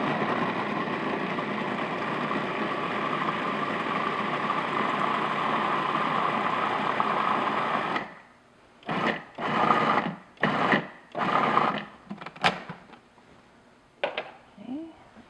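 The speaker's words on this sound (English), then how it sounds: "we're just going to process this until everything's blended and the bananas are smooth" A food processor blends bananas with pure vanilla extract in a loud, steady motor whir for about eight seconds, then stops, followed by a few short bursts and pauses.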